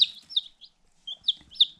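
High, thin peeping calls of chicks with a hen come in short bursts, close and fairly soft, with brief pauses between them.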